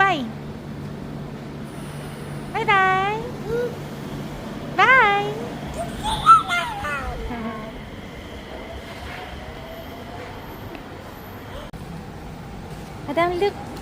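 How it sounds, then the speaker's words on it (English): A train pulls into a station with faint rumbling and rolling wheels, several squealing whines rising and falling, and a low hum, heard at a moderate distance beneath voices. "Your train is here."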